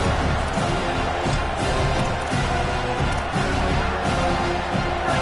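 A home crowd at a football game roaring steadily, a broad continuous wash of cheering and noise filling the stadium without letup.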